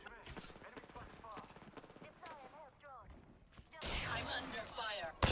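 Apex Legends gunfire crackles in rapid bursts, quiet at first and then loud and dense toward the end, under and between players talking.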